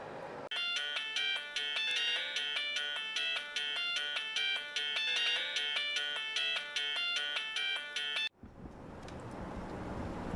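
A telephone rings after a call is redialed, a loud, steady electronic ringtone pulsing in a repeating pattern for about eight seconds before stopping abruptly, followed by faint background noise.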